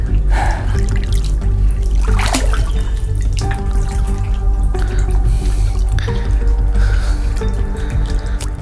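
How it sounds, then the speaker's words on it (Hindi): Water flows continuously inside a submerged cave, giving a steady rushing wash with scattered drips and splashes, close and loud throughout. "आपको एहसास होता रहता है कि पानी बह रहा है, लगातार बह रहा है और बाहर की ओर जा रहा है।"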